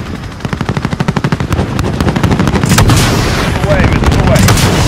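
Rapid machine-gun and cannon fire in Call of Duty Modern Warfare, a tight rhythmic burst of loud shots that swells into a sustained roaring barrage and detonation rumble, with faint radio chatter beneath.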